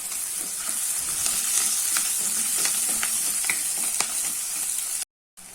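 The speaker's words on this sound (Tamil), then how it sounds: "வெங்காயம் நல்லா வதங்கிருச்சு." Shallots, dried red chilies and curry leaves frying in oil for a village-style brinjal kadayal, a continuous close sizzle with light stirring clicks, cutting out abruptly near the end.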